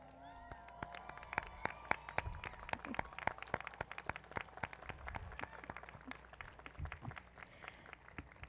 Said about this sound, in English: Come on, stand up and give a round of applause as a thank you to all of your supporters out there.